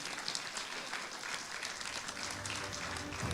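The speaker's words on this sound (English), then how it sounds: "Keep the round of applause going." A large live audience gives a sustained round of applause, with dense, even clapping that stays steady and fairly distant throughout.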